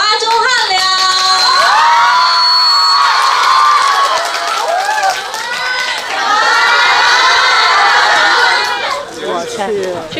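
An audience cheers, shouts and whoops loudly at an event, with excited high-pitched voices rising in waves over a busy crowd for the whole stretch.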